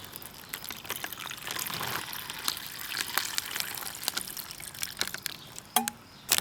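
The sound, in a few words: filling MRE beverage bag with water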